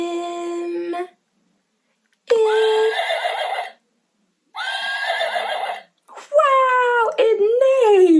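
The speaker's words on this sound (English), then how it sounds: "Wow, it neighed." A toddler's farm animal sound puzzle plays a horse neigh, loud and close, in three whinnying bursts separated by short silences.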